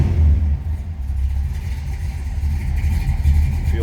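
A 1966 Ford Galaxie 500 with its 7-litre 428 V8 running, a deep, steady low-pitched engine rumble that holds close and loud throughout with slight swells in revs.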